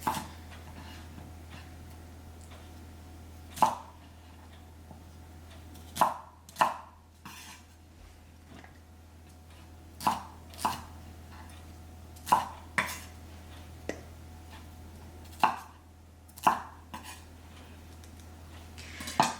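A knife slices through vegetables on a cutting board for a stir fry, giving about a dozen sharp, separate chops spaced unevenly over a quiet kitchen background.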